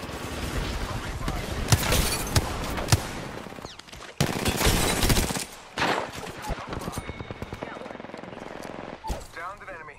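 Rapid machine-gun bursts and single gunshots ring out in a shooter video game, dense volleys with sharp cracks around two seconds and again after four, under a voice talking.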